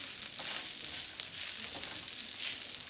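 Rice sizzles and crackles steadily while frying in a pan for Mexican rice, with a few soft scrapes as it is stirred around, close and continuous with no talking.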